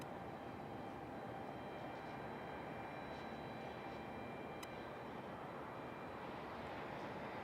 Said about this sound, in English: Sounds like we got a Southwest up and ready for departure